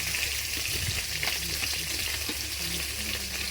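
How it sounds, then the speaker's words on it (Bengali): Fish pieces frying in hot oil in a home kitchen give a steady, loud sizzle and crackle that runs unbroken, with a few soft stirring scrapes and nothing else over it. "মাছ সুন্দরভাবে এইরকমভাবে ভেজে নিলে ভেঙে যায় না।"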